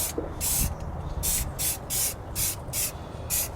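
Short bursts of black spray paint hissing onto the exhaust headers of a C10 truck's 350 engine, about seven evenly spaced sprays, close and steady.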